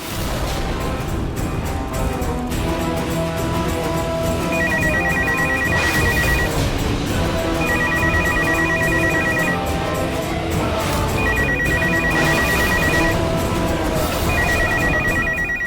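A landline telephone rings in repeated bursts of high electronic trilling, with short gaps between them, over a busy background of dramatic music and ambience.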